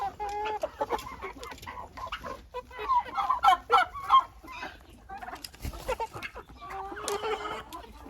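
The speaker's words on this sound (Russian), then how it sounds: "Фаверолька. Это курочка." A Faverolles hen clucks and squawks nearby in busy, uneven bursts, with other fowl calling and honking around it.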